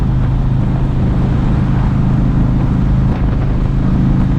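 A Harley-Davidson Road King FLHRXS motorcycle on a riding test, a steady, loud low engine rumble mixed with wind noise, heard up close without speech.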